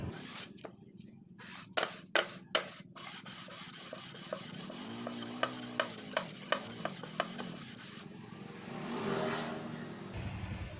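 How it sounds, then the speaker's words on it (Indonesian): Rapid back-and-forth rasping strokes of sanding with 1000-grit sandpaper on an engine part, close and fairly quiet, followed by a smoother continuous scraping with a faint engine hum underneath. "Finishing kita gunakan amplas angka 1000"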